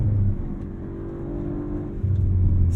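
The engine of a 2022 Audi RS5 Sportback pulls hard out of a corner, a loud, close, continuous drone that rises again near the end, heard from inside the car with no speech.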